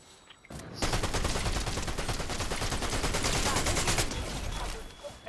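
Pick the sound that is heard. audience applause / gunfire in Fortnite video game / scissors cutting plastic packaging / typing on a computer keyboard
gunfire in Fortnite video game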